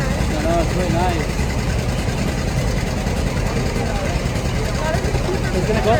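A farm tractor engine runs steadily up close at a pumpkin patch farm, a dense continuous low rumble with no breaks, while people talk over it.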